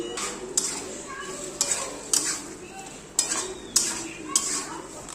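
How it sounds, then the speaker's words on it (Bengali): A spoon stirs cabbage, potato and pea curry in a hot pan, with repeated scraping strokes and metallic knocks against the pan roughly every half second, over a low background sizzle. "দিয়ে বেশ ভালো করে নাড়িয়ে চাড়িয়ে নিচ্ছি।"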